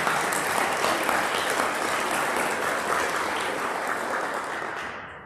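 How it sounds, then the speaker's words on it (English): Sustained applause from an awards ceremony audience honoring recipients, a dense, even roar of many hands clapping that holds steady before tapering off at the end. "So let's show them all a round of applause."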